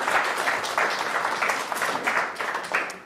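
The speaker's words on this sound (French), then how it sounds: "donc on peut les applaudir bien fort" A small audience at an event in Nice applauds the helpers, giving dense, steady clapping from a roomful of people that fades slightly toward the end.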